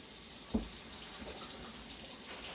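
Cold water runs steadily from a kitchen tap into a sink beside a strainer of draining pasta, a continuous close hiss with a single dull knock early on.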